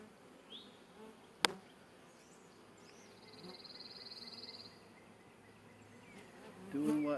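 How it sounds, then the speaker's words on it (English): A low, steady hum of many honeybees buzzing in an open hive nearby, with occasional louder passes, a sharp click, and faint background noise. "Lots of bees."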